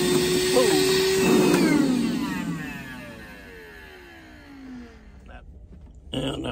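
A DeWalt DCV580 cordless wet/dry vacuum running with a loud whine, then spinning down with a falling pitch until it fades out, followed by a short clatter near the end.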